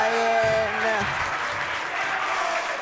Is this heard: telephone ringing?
no